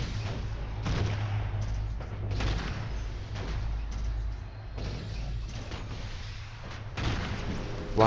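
Heavy laser weapons fire in the space combat video game Stellar Tactics, a steady stream of booming shots and rumbling impacts over a low continuous hum, loud and repeating throughout.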